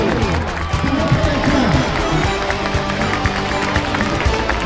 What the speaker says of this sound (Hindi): हर एक किक पर तालियों की गड़गड़ाहट है।